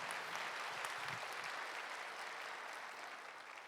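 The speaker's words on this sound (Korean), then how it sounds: "신임 지역장 속장님들을 위하여서 다시 한번 큰 박수 해주시면 감사하겠습니다" A church congregation applauds newly appointed district leaders during a Sunday worship service, a large, steady, even roar of clapping that fills the room and holds evenly throughout.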